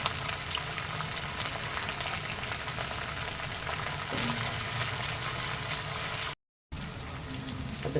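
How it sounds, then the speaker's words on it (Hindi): Ginger and garlic fry in a pan for cluster bean sabzi, giving a steady, even sizzle that runs throughout with a brief gap near the end. "अदरक लहसुन भी अच्छे से भून गया है।"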